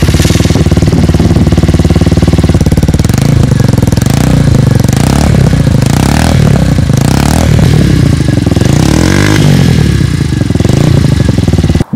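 An Orcal NK01 125cc air-cooled four-stroke motorcycle engine revs and rattles loudly up close. The exhaust note is harsh and clattery, with rising and falling pitch sweeps and no speech over it.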